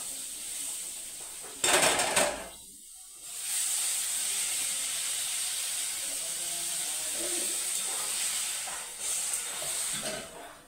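Water poured into a pan of sautéed lentils and vegetables, a loud hissing splash followed by a steady steamy sizzle and faint clinks of utensils.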